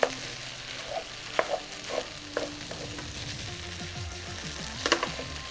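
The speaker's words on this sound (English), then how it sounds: "I'm gonna add my eggs, and I'm gonna kind of break apart the eggs like this" Eggs being broken apart and stirred through sizzling vegan kimchi fried rice in a pan, a close, continuous fry with rhythmic spatula scrapes and sharp taps against the pan throughout.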